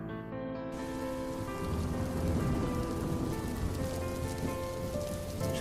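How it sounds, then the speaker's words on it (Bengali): Light rain falling at night, a dense, even patter of drops on surfaces that sets in after a brief quiet start and holds steady and close, alone with no voices. "রাতের দিকে আচমকা মৃদু বৃষ্টি নামে"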